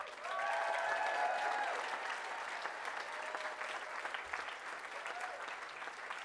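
A graduation audience at the University of West London breaks into a round of applause, a dense, even clapping swell that peaks early and carries on at a steady level.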